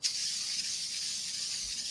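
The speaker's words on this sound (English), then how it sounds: "she said spray it really good. So olive oil goes down" Olive oil sprayed from a can onto parchment paper for keto flatbread pizzas, a steady close hiss lasting about two seconds without a break, alone with no talk.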